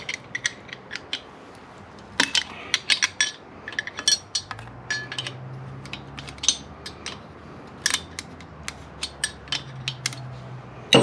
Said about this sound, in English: And you just break the lock nut loose.